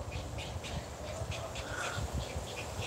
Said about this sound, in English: I'm trying to catch the birds all coming in, because usually around this time they're coming in to roost.